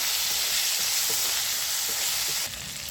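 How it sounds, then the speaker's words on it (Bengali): Ginger paste sizzles and fries in a pan while being sautéed for a vegetarian potato and pointed gourd curry, a steady close hiss with faint stirring scrapes, easing slightly near the end. "আবার ওইটা ভালো করে কষিয়ে নেব।"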